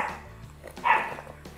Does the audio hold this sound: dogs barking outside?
yes